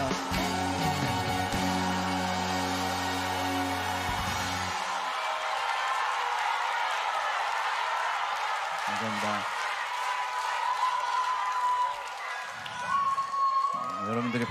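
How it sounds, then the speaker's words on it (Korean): A concert audience applauds and cheers, a dense sustained wash of clapping that runs throughout, with music fading out early and a few voices and whoops over it. "여러분들이 박수 많이 쳐주시니까"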